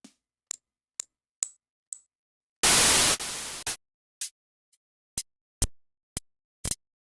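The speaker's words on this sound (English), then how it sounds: "So we got white noise right here" A short burst of harsh synthesizer white noise, used to build a clap sound, hisses for about a second, surrounded by scattered sharp clicks and ticks before and after.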